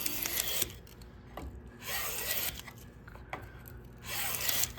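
Two Bedrock hand planes pushed along a wooden board, taking full-width shavings in repeated long rasping strokes separated by brief pauses, close and fairly quiet, no talking.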